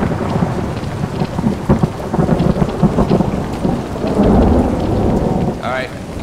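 Steady rain and rumbling thunder in the Half-Life 2 roleplay video game, a continuous loud storm wash with heavier bursts throughout and no talk.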